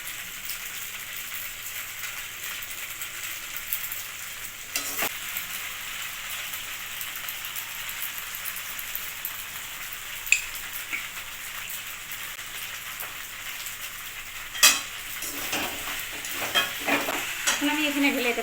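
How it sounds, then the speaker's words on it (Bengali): Pasta is stirred and fried in a pan in a home kitchen, giving a steady, bright sizzle with soft scraping stirs and a few sharper clinks of the utensil against the pan. "এক মিনিট আমি পাস্তাটা নাড়াচাড়া করে নেব।"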